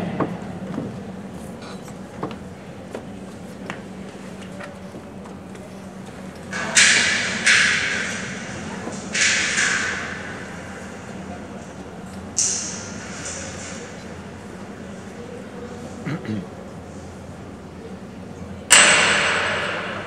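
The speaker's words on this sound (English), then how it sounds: "pick up the hammer, hit the work as hard as you can" A hammer strikes hard four or five times at uneven intervals, each blow ringing sharply before fading into a low background.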